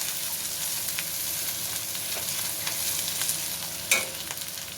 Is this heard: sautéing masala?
yes